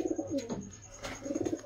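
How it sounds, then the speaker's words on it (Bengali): High-flying pigeons of top quality, kept for sale, coo close by in soft, throaty, rolling bursts at the start and end of a short moment. "একদম A1 কোয়ালিটির পায়রা আছে।"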